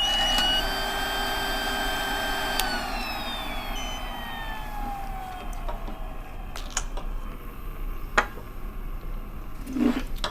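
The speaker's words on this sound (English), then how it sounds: "check the airflow with the flow meter, securely placed in the top of the air blower. Turn the power on and watch for the float to rise." A PAPR air blower runs with a flow meter seated in its top outlet, producing a continuous whirring whine with shifting tonal hums and a few sharp clicks and bumps toward the end.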